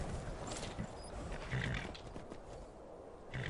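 A horse in the video game Skyrim moves with soft hoof clatter and faint snorting amid game ambience, quiet and without speech.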